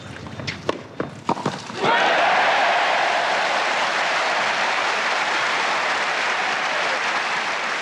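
Tennis crowd bursting into sustained applause after a few scattered early claps, the dense clapping holding loud and steady to the end with no talk over it.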